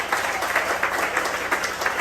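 A church congregation at an anniversary altar call applauds, dense steady clapping from many hands filling the room at moderate loudness.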